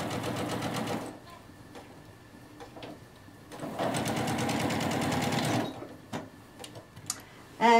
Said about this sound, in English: I'm going to sew on the line.